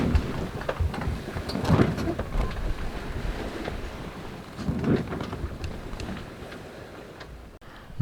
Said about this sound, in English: So the sails are flogging around, everything's slamming back and forth